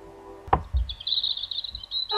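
Bird chirping in a short, playful skit: a sustained high chirp follows a single sharp knock, with a few faint low thumps underneath and no talking.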